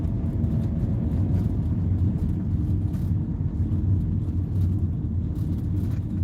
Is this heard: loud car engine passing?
yes